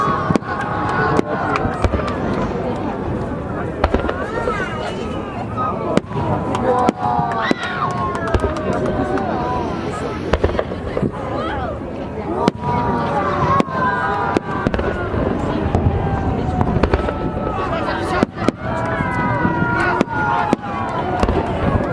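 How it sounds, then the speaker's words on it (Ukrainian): Fireworks salute over Sevastopol bay: a long run of loud, sharp bangs and crackles at irregular intervals, with crowd murmur and people talking underneath throughout. "Салют"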